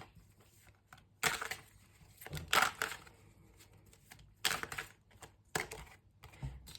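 A tarot deck being shuffled by hand, with several distinct bursts of riffling card noise separated by quiet pauses, close and fairly crisp.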